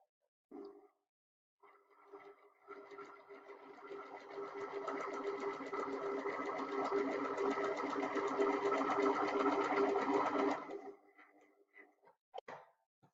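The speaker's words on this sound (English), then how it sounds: "So I'm going to go ahead and sew until I get close to the corner and then stop." A sewing machine stitching a straight line through paper: a brief start, then a steady rapid mechanical whir that builds and holds for about nine seconds before stopping, followed by faint handling clicks.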